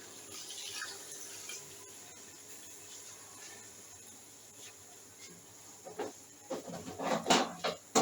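Water pours from a half-litre mug into a cooking pot while preparing matka mutton kunna, a faint trickle at first that grows into louder splashing bursts toward the end.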